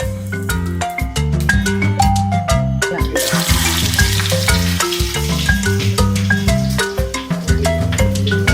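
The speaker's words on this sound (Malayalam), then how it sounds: "നമ്മൾ കടുവറുത്ത് ഒഴിക്കുകയാണ്" Mustard seeds frying in hot oil for tempering milk tapioca (paal kappa) give a steady crackling sizzle that thickens after the first few seconds, heard beneath loud, continuous background music.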